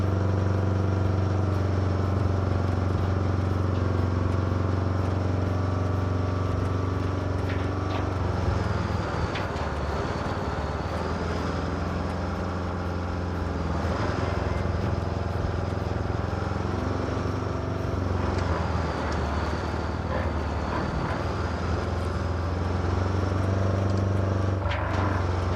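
Steady engine drone inside the cab of a scout vehicle in the game Roadcraft, a constant low rumble and hum with slight shifts in pitch that runs unbroken throughout.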